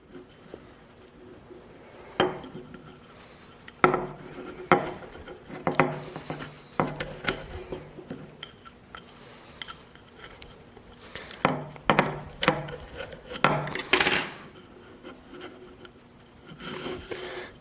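A nunchuck cord is dragged and scraped through a wooden handle, making intermittent close rubbing and scraping strokes with knocks of wood, separated by quiet gaps.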